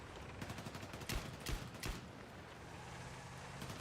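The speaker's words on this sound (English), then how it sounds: "The sound design on this revolver is so nice." Revolver fire in Battlefield 6: three crisp shots spaced about half a second apart, fairly faint against a busy wash of background battle noise.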